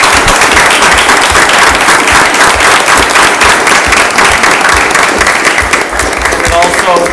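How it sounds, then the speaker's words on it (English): At a school committee meeting, an audience gives a loud, continuous round of applause, with voices mixed in beneath the clapping. "We'll give Sarah a round of applause."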